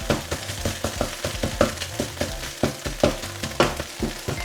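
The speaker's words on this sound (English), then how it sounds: "we're going to break that egg up. Keep stirring there, keep breaking it up." An egg is broken up and stirred in a hot pan for sausage fried rice, giving a steady sizzle punctuated by rhythmic scraping strokes of a utensil, close and clear.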